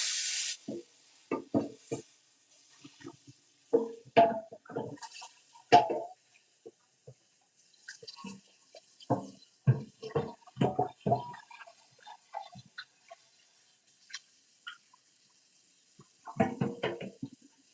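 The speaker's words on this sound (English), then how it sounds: "I'm going to wash the skillet" Water runs and splashes in short irregular bursts at a kitchen sink as a skillet is washed after cooking turkey bacon, with clinks and scrubbing between quieter pauses, close and fairly soft.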